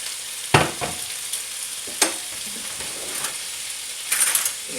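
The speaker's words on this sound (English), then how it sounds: "So now I'm going to cook the capsicum with the bacon." Capsicum and bacon sizzle in a pot under a steady frying hiss, broken by a few sharp metallic clinks and scrapes of stirring, with a busier clatter near the end.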